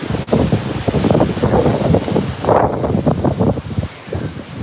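Strong gusting wind ahead of Hurricane Milton on the East Coast buffets the microphone in loud, continuous rumbling blasts that swell and ease without a break.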